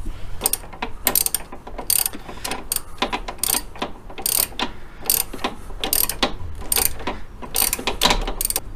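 A small ratchet turns a bolt in a cramped engine bay during a blow-off valve install, giving a steady run of close, crisp clicking strokes in an even back-and-forth rhythm with no talking.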